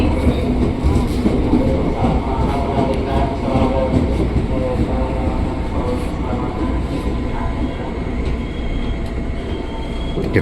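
KRL commuter train on the Rangkasbitung line pulling into Pondok Ranji station, a steady loud rumble of rail cars with some rhythmic wheel noise and faint voices aboard throughout.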